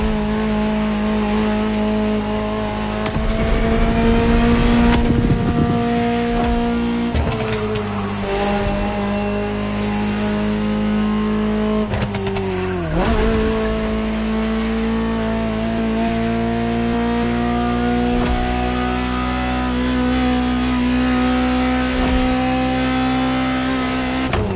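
A Ferrari sports car engine in The Crew Motorfest video game holds a steady drone, then revs and shifts through gears several times, loud and close, with no voices.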